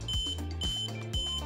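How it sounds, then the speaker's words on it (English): An electronic buzzer sounds a temperature alert in short repeated tones, three quick bursts separated by brief gaps, clear and close. "producing a sound with a buzzer"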